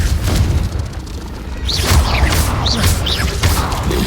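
A Confringo blasting spell goes off in a video game, a booming burst with crashing, mechanical debris noise and several short whooshing spell chirps over steady game ambience.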